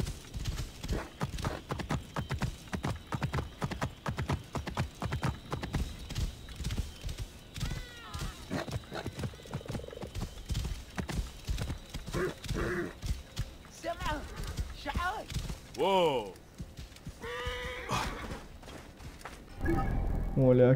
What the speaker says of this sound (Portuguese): Mais rápido de cavalo.